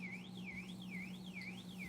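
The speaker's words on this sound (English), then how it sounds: "there goes my alarms" Battery-powered alarms at a remote wilderness home in British Columbia sound off with a steady rising-and-falling electronic whoop, repeating about every half second, fairly faint over a low hum, with no talking.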